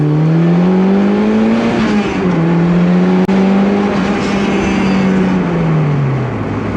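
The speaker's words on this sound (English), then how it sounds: "The high boost button has been pressed. First gear. Blows the tires off." A turbocharged Mazda Miata on a dyno pulls hard in first gear at high boost, its loud, close engine drone rising in pitch and then dipping as it climbs steadily. A brief sharp click cuts in midway, with no voices.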